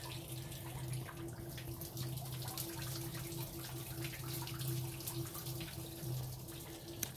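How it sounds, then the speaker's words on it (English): Water flowing and draining steadily, a constant wash with a faint low hum running underneath throughout. "Listen to the water, it's going away."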